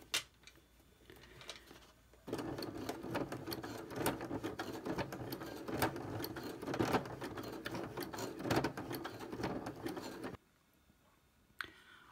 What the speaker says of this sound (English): I'm just sewing the very last section of handle on